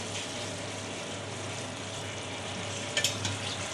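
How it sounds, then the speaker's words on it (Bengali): Spiced masala with a pinch of turmeric powder cooks in a pan as a steady, close frying hiss and soft sizzle, with a brief stirring scrape near the end; no talk. "মশলাটা আমার কষানো হয়ে গেছে, একটু কিছু হলুদ গুঁড়া অ্যাড করে দিলাম।"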